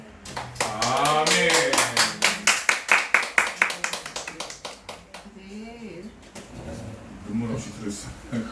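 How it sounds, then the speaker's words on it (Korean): A congregation at a Korean Sunday church service claps, a burst of rhythmic, fairly even applause that swells and then thins out, with voices speaking and murmuring around it. "다시 한 번 더 하나님께 영광의 박수."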